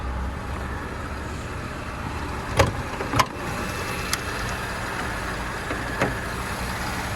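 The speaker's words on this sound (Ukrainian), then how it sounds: "Двигун працює ідеально" Skoda Octavia Tour engine idling with a steady low hum, broken by a few brief sharp clicks or knocks, no talk.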